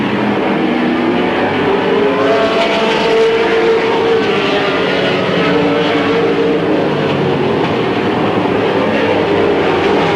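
Race cars roar around Midvale Speedway, a steady, dense wash of engine noise that stays loud and unbroken throughout, with no voices.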